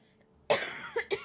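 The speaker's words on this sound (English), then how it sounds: "I'm so bored of this cough." A dry, unproductive cough: one harsh burst followed by two shorter coughs in quick succession, close and alone in a quiet room.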